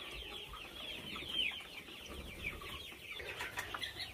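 Chickens outside a new coop on a warm sunny day, giving soft scattered clucks and calls over faint farmyard background, fairly distant and quiet, with no one speaking.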